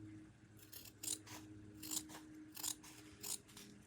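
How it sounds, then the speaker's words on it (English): Scissors snip through a thrifted scarf along its stitching, giving four or five crisp, close cuts at a steady rhythm against a quiet room hum. "let's see if these scissors will do it"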